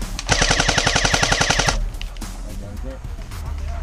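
An airsoft gun fires a rapid, evenly spaced automatic burst of about twenty loud, close shots during an airsoft game. Quieter background sounds follow after the burst.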